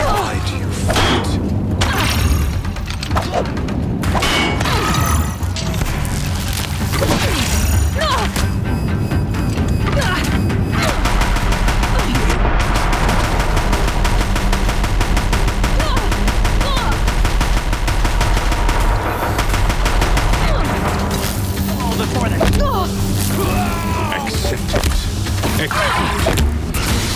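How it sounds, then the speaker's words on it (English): Deathbringer machine guns in Horizon Zero Dawn firing at a bridge, a dense, loud, continuous mechanical rattle of rapid gunfire with clanking and creaking machinery, sustained throughout under game music and sound effects. "If the Deathbringers keep firing, this bridge will go."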